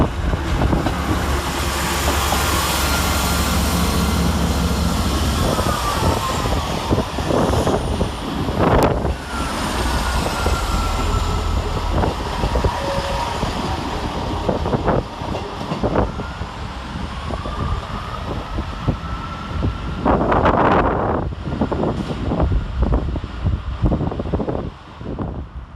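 Two Class 158 diesel trains pulling out of Chester station together, a steady loud rumble and engine drone with wind buffeting the microphone, occasional clanks and a rising hum near the end, no voices.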